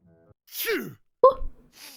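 A single sneeze, close and fairly loud: a sharp breathy burst followed a moment later by a shorter voiced catch, with quiet room sound between.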